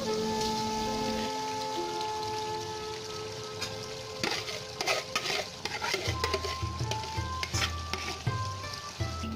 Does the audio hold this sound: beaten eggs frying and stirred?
yes